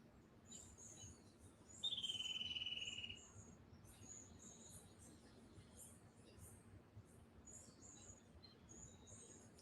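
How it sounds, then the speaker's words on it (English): Birds chirp outdoors from a balcony, with one clear, brief call standing out near the start and faint, scattered twittering continuing in the background over a steady low hum. "You're in your balcony listening to real birds too."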